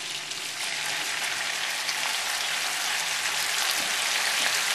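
Long bacon strips frying in a hot pan with a quarter inch of olive oil, giving a steady, even sizzle and crackle that holds constant with no talking.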